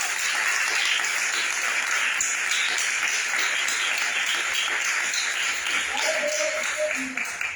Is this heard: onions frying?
no